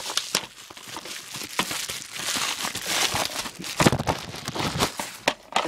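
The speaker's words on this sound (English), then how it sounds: "let's just open the bubble wrapping" Bubble wrap packaging around a Harry Potter and the Prisoner of Azkaban book is pulled open with scissors at close range, giving a steady run of crinkling, crackling plastic with sharp rustles and small tearing bursts.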